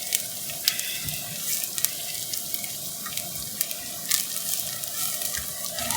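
Onion gravy base for urad daal sizzles and fries in a pan, a steady close crackle and hiss with scattered pops and spits throughout.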